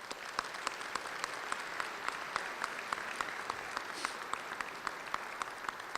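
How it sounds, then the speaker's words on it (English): A breakfast audience gives a warm round of applause, a faint, steady patter of many hands with sharper individual claps popping out regularly throughout. "he deserves a warm round of applause for doing that"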